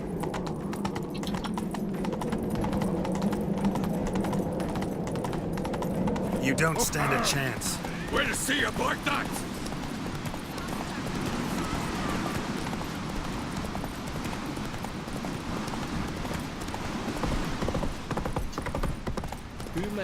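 Horse hooves gallop in a race in The Witcher 3: Wild Hunt video game, a rapid continuous clip-clop rhythm that stays loud throughout, under character voices talking, with heavy rumbling game sound.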